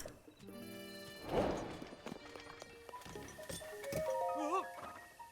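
A horse in the video game Zelda: Breath of the Wild gives a short clatter of hooves and a whinny among layered game tones and effects.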